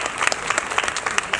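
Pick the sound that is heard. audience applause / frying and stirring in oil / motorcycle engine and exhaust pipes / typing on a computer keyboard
audience applause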